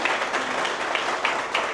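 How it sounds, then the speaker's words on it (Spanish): Audience applause greeting a guest speaker at a lecture in a cultural centre hall in Puerto Plata, a steady wash of many hands clapping close and continuous, with no talk. "le damos este aplauso para recibirle"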